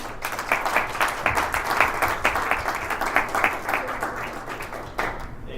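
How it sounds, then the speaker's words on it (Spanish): An audience at a technical gathering gives sustained, lively applause, individual claps pulsing through a continuous wash that holds for several seconds before thinning slightly at the end. "Creo que se merecen un súper fuerte aplauso estos muchachos."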